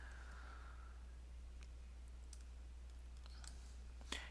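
A computer mouse clicks a tag button in a web browser, giving a few faint, sparse clicks over a low steady hum, with a sharper click near the end.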